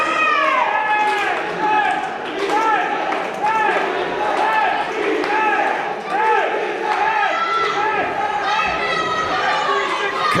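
A wrestling crowd at a live show roars and chants in a steady, loud wash of voices, with rising whoops and shouts repeating throughout.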